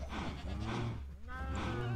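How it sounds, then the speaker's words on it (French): Minecraft cows moo in low, drawn-out bleating calls, two clear moos within a couple of seconds against a quiet game background. "on va les faire reproduire toutes les vaches"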